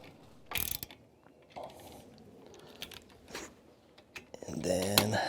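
A ratchet clicks in short bursts while bolts are tightened on a wrought iron handrail being installed on concrete stairs, with intermittent handling noise and a louder burst of clicking near the end.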